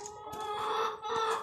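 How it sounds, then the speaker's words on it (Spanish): Hens cluck and squawk close by in a couple of short rhythmic bursts, loud and clear with no talking. "cuando oiga las gallinas"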